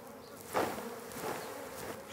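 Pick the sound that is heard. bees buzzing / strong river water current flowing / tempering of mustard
bees buzzing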